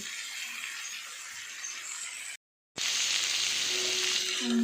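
Steady, close sizzling of pointed gourd and onion frying in a pan, briefly cut to silence midway, then resuming louder with a faint hum underneath.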